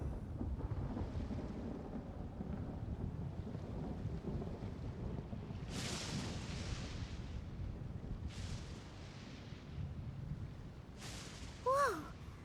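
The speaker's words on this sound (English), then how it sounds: "Whoa! Where'd that thunder come from?" Thunder from a video game thunderstorm: low rolling rumble under steady rain, with several distant thunder bursts spaced a few seconds apart and a brief voice-like sound near the end.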